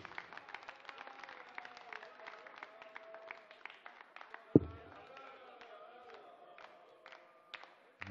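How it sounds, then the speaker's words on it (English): German darts crowd at the 2018 German Darts Open attempting a sing-song, a distant chant mixed with scattered claps and crowd noise, one sharp thud midway. "the German crowd trying to get a bit of a sing-song going to spur on their man"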